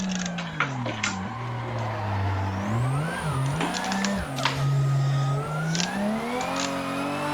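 A Toyota Supra engine revving under load in third gear while driving, the engine note rising and falling continuously with gear-driven whine, close and loud throughout with no talk.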